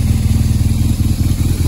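A serviced BMW R 1200GS Adventure motorcycle idles close by on its original exhaust, a loud, steady low boxer-twin throb with a fast even pulse.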